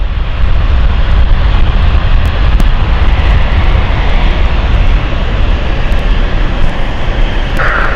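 A jet aircraft taxiing at London City Airport in the evening, a loud, steady engine roar with a broad rumbling hiss that holds constant throughout, close by and with no voices.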